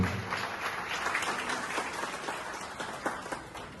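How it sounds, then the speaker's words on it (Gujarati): An audience claps at a business get-together, a steady, dense wash of applause with no lulls, heard from within the room. "એમને જોરદાર તાળીઓથી વધાવશો"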